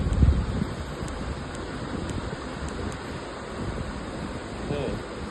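A small portable bag fan running at speed 100, blowing a steady broadband rush of air close to the microphone with a faint high whine above it, while someone talks briefly.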